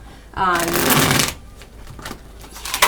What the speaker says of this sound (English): we're going to give this a really, really good shuffle.